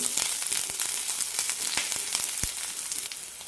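Curry leaves sauté in hot oil for a kurma, giving a steady, close crackling sizzle with scattered pops and a few stirring scrapes, no voices.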